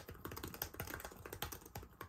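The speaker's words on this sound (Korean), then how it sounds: "반발력도 좋고 타건 소리는 일반적인 수준이었습니다" Rapid, steady typing on a Samsung Galaxy Book Pro 360 or 2021 LG Gram 17 laptop keyboard, many soft clicky keystrokes in quick succession with no voices.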